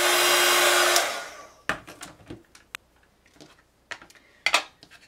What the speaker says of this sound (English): I'm just going to heat set those.